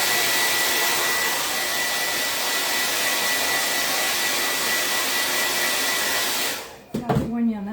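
Loud, constant whoosh of a hair dryer drying crimson Waverly chalk paint, running continuously until it switches off near the end, after which someone briefly talks.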